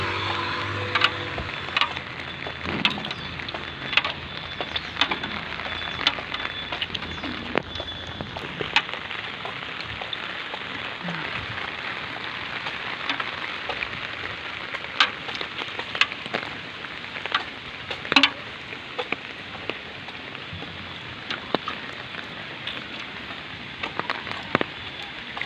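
Rain falls steadily outdoors on a walk home, a constant hiss of drops with scattered sharper taps and patters on nearby surfaces, heard close and continuous without talking.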